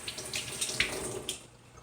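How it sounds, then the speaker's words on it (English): Water draining out of a freshly repotted and watered house plant onto a plate below, a soft close trickle and splash that fades away near the end. "That's really draining out because I see it all over the plate here"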